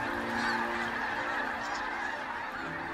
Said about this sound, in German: Die Gänse stimmen ihre Ankunft auf den arktischen Sommer ab.